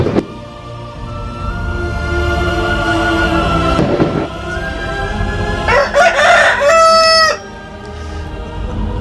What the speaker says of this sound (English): A second time, the rooster crowed.